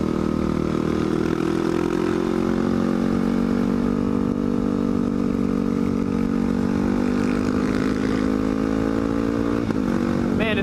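Supermoto motorcycle engine running on a wet road, a steady droning hum with slowly shifting pitch that stays loud and close throughout, with a brief change near the end.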